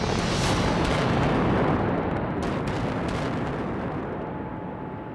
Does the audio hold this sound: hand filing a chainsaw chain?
no